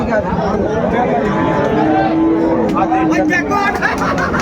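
Brahman cross cattle low at a busy livestock market in Narayanganj, their drawn-out moos rising over constant crowd chatter and nearby voices.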